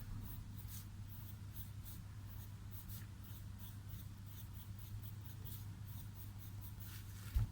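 A pencil scratches softly across paper in continuous strokes while sketching a face in a mural painting lesson, a faint steady hiss over a constant low electrical hum.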